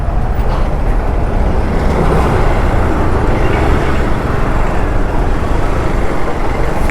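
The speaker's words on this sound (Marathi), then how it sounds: "या ब्रिजवरती पण ट्रॅफिक आहे आज, काय एवढं ट्रॅफिक" Road traffic crowds a bridge, heard from a moving bike as a dense, steady rumble of engines and tyre and wind noise, loud and unbroken throughout.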